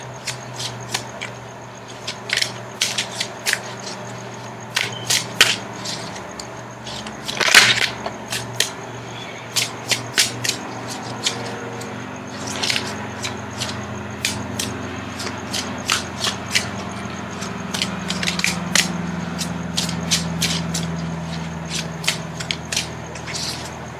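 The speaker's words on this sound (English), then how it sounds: "Now I'm going to shuffle for the outcome card." Tarot cards shuffled by hand in a steady run of quick, crisp riffling bursts and soft slaps, fairly close and alone with no talk, with a faint low hum beneath.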